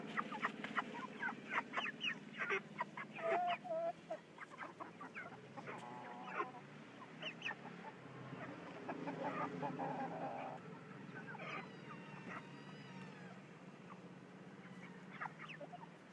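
Backyard turkeys cluck, yelp and chatter near a patio under construction, a busy flock of overlapping calls, clustered early, then thinning to scattered faint calls over a low outdoor background.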